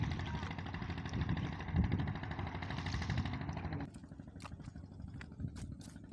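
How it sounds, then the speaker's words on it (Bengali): A trawler boat's engine chugs on the wide Meghna river, a steady low mechanical rumble that runs loudly for about four seconds, then drops to a quieter drone with faint scattered clicks and ticks. "এই নদীতে দেখেন ট্রলার চলে।"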